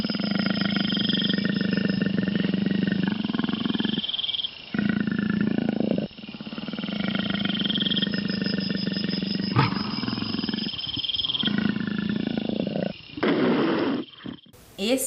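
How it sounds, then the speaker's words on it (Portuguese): A leopard's roar, played as a recording in an animal sound guessing game, comes through as a loud, continuous rasping growl with brief breaks and a sharp click near the end. "Esse som é o som do leopardo."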